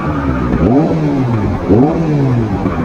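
A Kawasaki ZX-4R sports bike engine revs in a couple of sharp rising and falling bursts over a steady loud running drone, heard close while riding.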